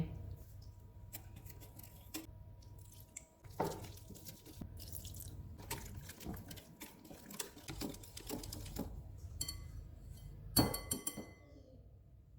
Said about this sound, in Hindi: थोड़ा थोड़ा पानी डाल के बैटर तैयार कर लेंगे।